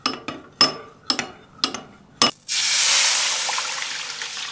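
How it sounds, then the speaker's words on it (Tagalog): Water runs into a container after a few sharp clinks, then settles into a steady gush lasting a couple of seconds: half a cup of water being added to two spoonfuls of cornstarch to dissolve it for a sweet chili eggplant sauce. "Magtunaw tayo ng 2 kutsarang cornstarch sa 1/2 tasang tubig."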